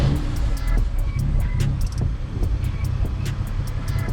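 A BMW M3 F8X, tuned to 640 horsepower, starts up with a subdued, steady low engine rumble. It stays fairly quiet throughout, with faint higher ticks over the top.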